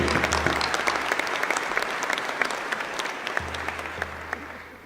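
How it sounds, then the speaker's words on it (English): Sustained audience applause at a graduation convocation ceremony, steady dense clapping from a large crowd filling the hall throughout, with a low hum underneath. "let's give them another big round of applause"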